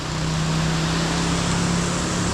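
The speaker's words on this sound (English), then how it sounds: "Little waterfall," A small waterfall near La Venta in the Venezuelan mountains gives off a steady, broadband rushing hiss with a faint low hum beneath it, close and unbroken throughout.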